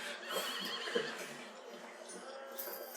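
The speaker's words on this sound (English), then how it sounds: "I'll go find my horse, I guess." A horse whinnies faintly in a fantasy tabletop role-play session, a thin, distant call against low background noise with no clear talk over it.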